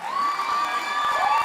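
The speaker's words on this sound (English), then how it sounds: "Let's give a round of applause for Mr." Convention audience cheering and whooping for a longtime board member at a general session, a sustained crowd roar with high shouts and some clapping, loud and close throughout.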